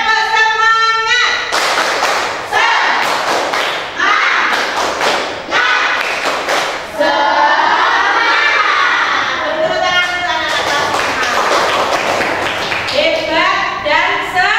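Students in an Indonesian classroom perform a rhythmic spirit clap, with repeated loud group claps and thumps in bursts alongside chanting children's voices and a teacher talking.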